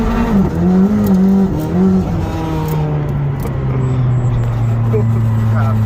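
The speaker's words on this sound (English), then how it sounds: "Holy crap, that thing sounds so good. Inside the McLaren 620R." Heard from inside, a McLaren 620R sports car's engine drones loud and close on a drive, its pitch climbing and dropping through gear changes before settling into a steady tone.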